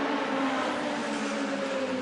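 Race cars in a historic retro speedfest at Sydney come down the straight with a sustained engine drone, fairly distant and steady, without any voice present.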